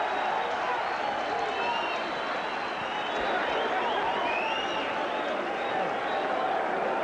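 Spectators at the Iran Barkley vs Darrin Van Horn boxing match roar in a steady, dense wash of cheering and applause, with a commentator talking over it.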